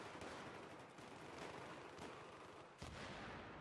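Battlefield 3 multiplayer on Kharg Island: faint, continuous bursts of gunfire and explosions, with one sharper blast near the end.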